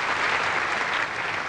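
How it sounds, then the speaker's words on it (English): A studio audience claps steadily for a magician's assistant in a stage magic act, a dense, even round of applause heard alone without talk. "Can I have a round of applause for my lovely assistant, Miss Debbie McGee?"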